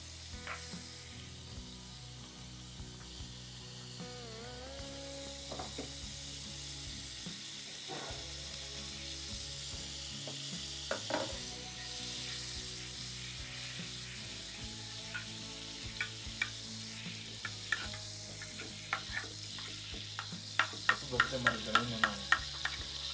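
Margarine sizzles in a hot pan, a soft continuous frying hiss with occasional clinks and scraping from a utensil, growing a little busier near the end.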